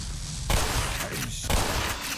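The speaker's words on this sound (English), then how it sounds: "It feels weird shooting them." Gunfire in the Black Mesa video game: rapid, close bursts of weapon fire in two clear volleys, loud and sharp over a busy background.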